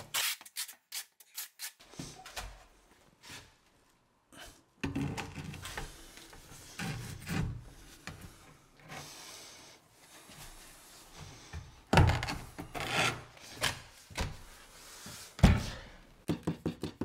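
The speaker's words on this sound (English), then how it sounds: "I'm gonna back trowel this one because I'm knowing I need a little bit more thin set on this." A trowel back-butters thinset onto a tile for a tub-to-shower bathroom remodel, close scraping and rubbing strokes in irregular bursts with quiet gaps and a few knocks.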